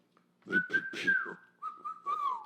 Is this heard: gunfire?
no